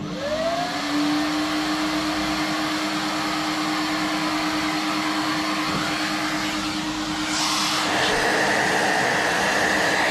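A hoover vacuum cleaner runs continuously in a workshop, a loud steady motor whine and airflow roar that shifts to a brighter, higher tone partway through.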